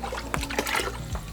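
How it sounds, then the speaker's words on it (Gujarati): A short splash and trickle of water poured into a pot of village-style drinking khichdi loaded with vegetables, quiet and close, lasting barely over a second. "ચાલો, હજી થોડુંક પાણી ઉમેરે છે."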